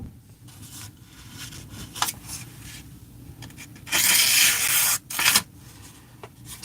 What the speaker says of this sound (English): I may have to go back and sharpen some more.